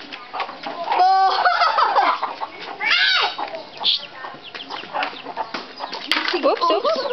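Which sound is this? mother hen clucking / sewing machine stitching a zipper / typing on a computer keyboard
mother hen clucking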